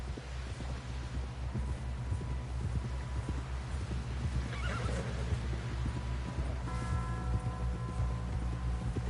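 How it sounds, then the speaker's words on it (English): Horses in Red Dead Redemption 2 neighing and whinnying over steady clip-clopping hooves, a close, continuous rhythmic trot with a louder whinny midway and another near the end. "Someone help John down off this horse"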